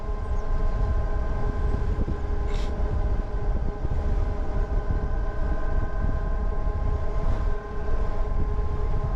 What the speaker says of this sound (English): the wind's blowing me around